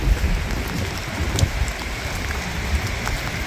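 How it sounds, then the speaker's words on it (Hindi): Heavy rain pours steadily in Canada, a dense continuous hiss of drops on surfaces with scattered louder splashes, close and even throughout with no voices. "बारिश तेज़ हो रही है"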